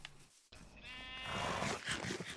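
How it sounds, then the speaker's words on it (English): A Minecraft sheep gives a single short, wavering bleat at close range, then a soft, noisy shuffle follows. "Let's go feed that sheep."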